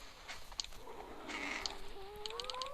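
Chickens cluck in Survivalcraft 2, several short, fairly close clucks in quick bursts over a quiet background, with no talking.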